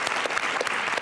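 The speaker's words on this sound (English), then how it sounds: "applause to you" An audience gives a burst of clapping, dense and lively, filling the whole short moment with no voices on top.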